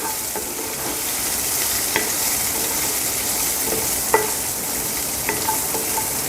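Green chilli and garlic sauté in a hot pan with a steady, bright sizzle, broken by a few light scraping clicks from stirring. No voices are heard.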